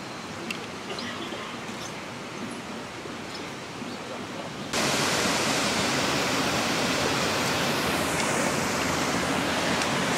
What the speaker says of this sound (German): Sind wir zum ersten Wasserfall hier angekommen.